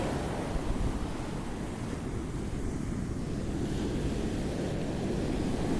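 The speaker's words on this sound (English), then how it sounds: "The waves gently crashing in and the sun lighting the sand." Ocean waves wash steadily onto a sunlit sandy beach, a broad, constant surf roar with some wind, even in loudness and free of voices.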